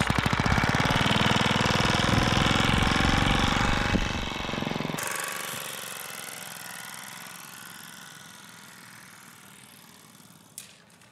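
Homemade pneumatic model plane engine running, a loud, fast rattling buzz close by that cuts off abruptly about halfway, leaving a fading hiss and faint background sound.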